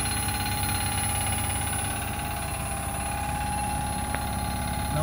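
A PMSM motor on a field oriented control drive trainer runs steadily counterclockwise, giving off a constant low electrical hum with a high-pitched whine above it, near and unbroken throughout.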